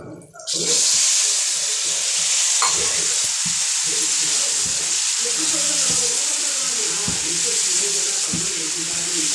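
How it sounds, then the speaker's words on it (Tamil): A pan of pickle mixture with lemon juice bubbles and sizzles steadily and loudly, with occasional clinks and stirring sounds over the constant hiss. "நல்லா கொதிக்கட்டும்"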